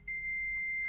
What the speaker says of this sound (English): beep sound, right?